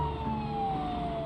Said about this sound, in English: getting ready to turn the siren on